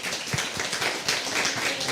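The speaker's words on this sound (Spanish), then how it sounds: "Un fuerte aplauso para Kiersten" An audience applauds author Kiersten White at a book presentation, dense steady clapping from a crowd sustained throughout, with no talk over it.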